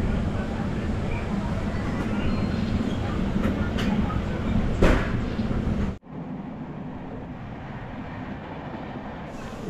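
The 12857 Tamrolipta Express train rolls toward Ramnagar Bengal station, a loud continuous rumble of wheels and carriages with a few sharp clanks. The noise drops abruptly partway through to a quieter steady hum.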